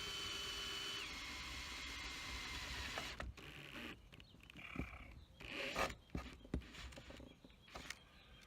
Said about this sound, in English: me drill my holes